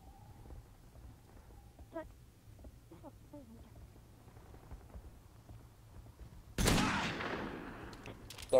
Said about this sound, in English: Please fire a single shot.